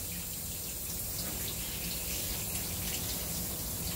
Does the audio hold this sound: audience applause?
no